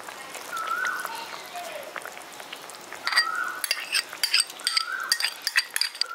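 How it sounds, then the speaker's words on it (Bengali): Rice stirred in a pot with hot saffron-soaked milk for village-style Rajnondini polao, giving soft scraping and light clinks of a spoon against the pot, with a few louder clatters toward the end. "ভালো করে মিশিয়ে দিচ্ছি।"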